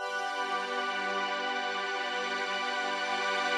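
A bell pad preset from the Nexus synth sounds alone, a steady sustained chord with shimmering bell-like overtones held at even volume throughout.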